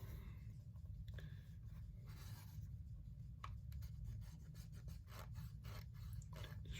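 A cleaner rubbed back and forth across the dirty metal contacts of an old game cartridge, giving a faint, steady scratchy rasp with brief sharper scrapes over a low background hum.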